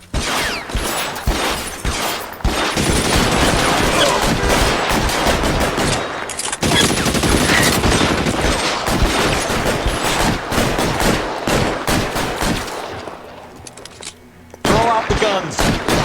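A gunfight in the video game L.A. Noire crackles with loud, rapid bursts of gunfire and scattered single shots that hammer on almost without pause, then drop away briefly before a final burst.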